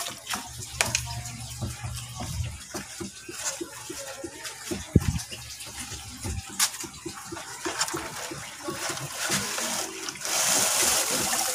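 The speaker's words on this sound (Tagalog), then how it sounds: "tapos i-drain po natin yung tubig." Water drains out of DIY bucket pond filter drums, splashing and trickling with scattered knocks and bumps, then swelling into a steadier rushing pour toward the end.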